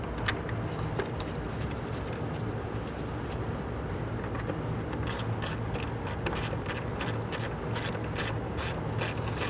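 A ratchet snugging down a radiator bracket bolt on a 2011-2017 Nissan Quest, rapid pawl clicks in several close bursts, busier toward the end, over a steady low background hum.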